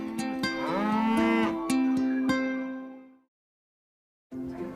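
Dairy cows grazing free in a milk advert low a long, loud, drawn-out moo with a few sharp clicks, then silence before another moo begins.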